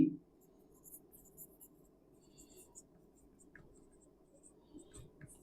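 Faint handwriting scratches and taps along quietly, a soft continuous scribble close by under low background hiss.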